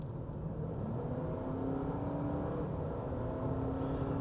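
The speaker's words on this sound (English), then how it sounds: "We'll slow down a little bit here. There's nobody around, and just do an acceleration test." A 2023 Honda CR-V Hybrid Sport accelerating in normal mode: a steady, close engine and motor hum with a slowly rising tone, continuous throughout with no talking.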